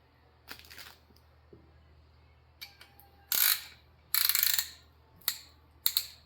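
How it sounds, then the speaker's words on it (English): A ring compressor is tightened around engine piston rings during a service truck engine rebuild: scattered ratcheting clicks, then several short bursts of rapid metallic clicking close by in a quiet room. "Now, check your rings. Put the ring compressor on."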